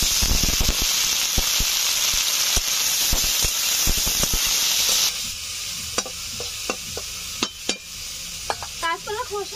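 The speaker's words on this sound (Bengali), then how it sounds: "রসুনগুলো হালকা ভাজা ভাজা হয়ে এসছে, এখন দিয়ে দিচ্ছি সেদ্ধ করে রাখা কাঁচকলার খোসা।" Boiled green banana peels go into garlic frying in hot oil, giving a loud, dense sizzle with rapid spattering crackles that drops suddenly midway to a quieter hiss, followed by scattered spoon clicks and stirring scrapes, close up.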